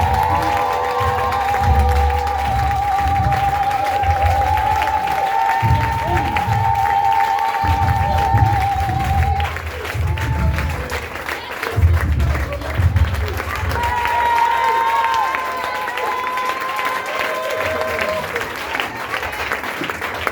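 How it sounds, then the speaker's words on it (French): A church congregation applauds and cheers loudly for about twenty seconds without pause, steady clapping mixed with crowd shouts and a voice over it. "j'aimerais que tu acclames très fort le Seigneur"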